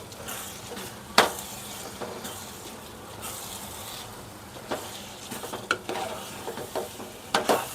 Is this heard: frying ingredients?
yes